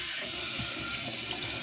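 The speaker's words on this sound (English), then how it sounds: "I've brought the Action 5 over to the sink just to run some water all the way around it" Tap water runs at a sink over a DJI Osmo Action 5 Pro camera, a steady close hiss and splash of flowing water with no pauses or voices.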